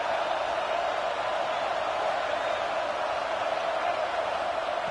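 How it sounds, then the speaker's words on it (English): A football stadium crowd roars steadily as the defense tries for a stop near the goal line, a dense, unbroken wash of cheering that holds at an even level the whole time. "the crowd really making some noise now, trying to help out this defense to get this stop near the goal line"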